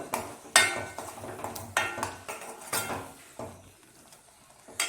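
A spoon scrapes and clinks against a pan while stirring a beetroot pachadi mixture, giving a run of irregular metallic taps and scrapes. A faint sizzle sits underneath.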